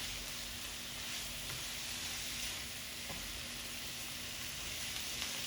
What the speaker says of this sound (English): we just want them to get a little more color, the shrimp, and then we're going to throw in the snap peas